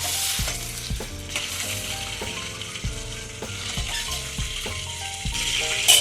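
Chicken pieces for chicken molly frying in oil in a pan, a constant loud sizzle broken by repeated rhythmic scraping and stirring taps from a utensil.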